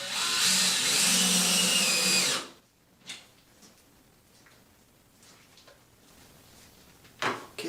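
A power drill drives a screw into the wall to mount a towel bar bracket, giving a loud, steady whirring buzz for about two seconds that then stops abruptly. Only faint clicks and handling noises follow.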